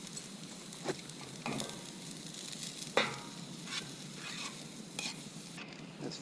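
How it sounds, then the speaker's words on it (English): Vegetables sauté in a canteen cup over an outdoor fire, giving a steady close sizzle with periodic scraping stirs, the sharpest of them around the three-second mark. "We're just gonna saute these vegetables down."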